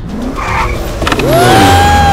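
A car in a Hindi action film speeds up with screeching, skidding tyres, a loud rising squeal over a roaring engine, close and intense.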